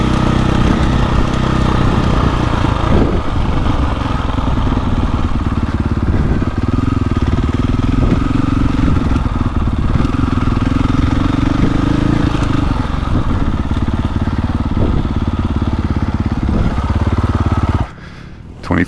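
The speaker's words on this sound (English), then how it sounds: "This is probably my favorite 450 engine." A 2024.5 KTM 450 Factory Edition motocross bike being ridden at a motocross track, its engine loud and close with a continuous throaty roar that rises and falls with the throttle for the whole stretch, cutting out briefly near the end.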